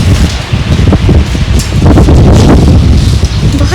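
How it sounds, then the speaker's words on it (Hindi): Strong wind blows outdoors on a hot, sunny day, hitting the microphone as a loud, constant roaring rumble with rustling gusts throughout, and no voices. "बहुत हवा चल रही है"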